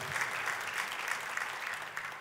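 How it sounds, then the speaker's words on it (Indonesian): A church congregation bursts into applause for God during a worship service, the clapping dense and steady throughout, with a faint cheer rising beneath it. "Kita kasih tepuk tangan yang paling meriah buat Tuhan kita."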